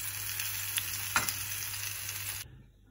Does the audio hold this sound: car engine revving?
no